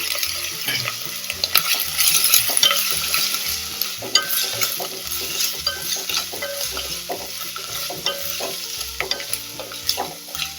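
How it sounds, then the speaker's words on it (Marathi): Carrots and boiled sweet corn kernels saute in ghee in a pan, a close steady sizzle and crackle broken by repeated scraping strokes of a stirring spoon throughout, with no talking. "गाजर आणि मकईचे दाणे छान परतले गेले"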